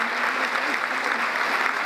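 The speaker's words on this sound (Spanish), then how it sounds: "Con este aplauso agradecemos la participación" Steady, dense applause from a crowd, a continuous wash of clapping at even loudness throughout.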